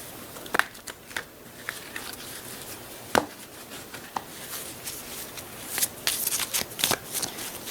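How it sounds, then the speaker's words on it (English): Tarot cards shuffled by hand, starting with sparse separate slaps and taps, then building into a denser flurry of riffling card sounds toward the end, close and crisp in a quiet room. "Get a good mix in the cards"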